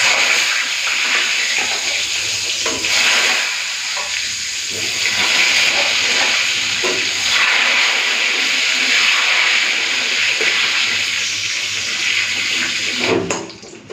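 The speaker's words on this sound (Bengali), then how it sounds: "চলুন বেগুনটা ভেজে নিই।" Eggplant frying in hot, pungent mustard oil gives off a loud, steady hiss that holds for most of the stretch, then breaks off abruptly near the end.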